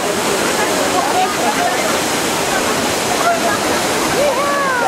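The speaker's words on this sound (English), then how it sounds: "Here we are at Fountain Divini." Water splashes steadily from a fountain in Rome, a dense continuous rush filling the scene from start to finish, with faint whistling and chatter from people nearby.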